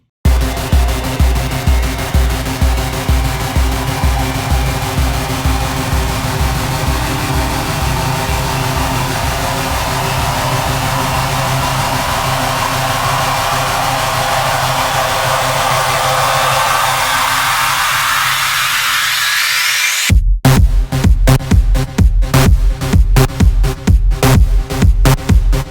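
An original track plays alone: a steady pounding four-on-the-floor kick under a long rising buildup of sweeping noise, which cuts out abruptly near the end before a loud, choppy stuttering drop with hard rhythmic hits.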